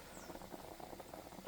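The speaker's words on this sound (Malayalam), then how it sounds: "തയ്യാറായി നന്നായി തിളച്ച് വരുന്നുണ്ട്." Fish curry masala with kudampuli, water and salt boils in a clay pot, a faint, steady bubbling patter close by.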